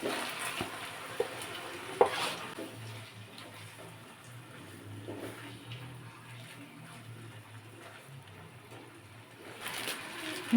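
Marinated meat frying in a pan for a dry curry with green chillies gives a faint, steady low sizzle with occasional soft clicks and stirring scrapes, quiet and alone.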